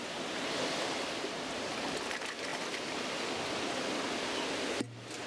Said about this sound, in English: We're just gonna let them soak here with this water running in.